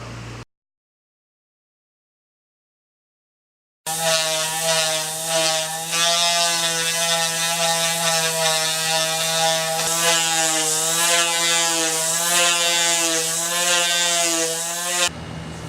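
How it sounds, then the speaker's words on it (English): Old paint ground off a metal panel with 100-grit sandpaper, a steady buzzing whine running loud and unbroken for about eleven seconds after a brief silent gap. "I finished grinding it down with the 100 grit sandpaper."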